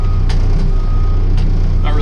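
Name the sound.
reversing beeps of a vehicle backing up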